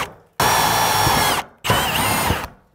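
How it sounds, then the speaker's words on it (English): A power drill boring holes for wall anchors while mounting a DIY planter system, heard as two loud, close, sustained bursts of about a second each with a short gap between. "We're first going to drill for the anchors."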